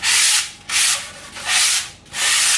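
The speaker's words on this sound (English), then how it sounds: "Just sand in straight lines" Hand sanding of a hot-wire CNC-cut foam wing core for an intermediate wing build, four loud strokes in straight lines with a steady back-and-forth rhythm, each stroke a bright rasping rub, close and alone.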